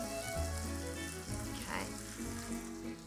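A splash of mushroom stock sizzles and reduces in a pan sauce for sweetbreads with mushrooms, a steady loud hissing bubbling close up with no pauses.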